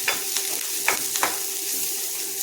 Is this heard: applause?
no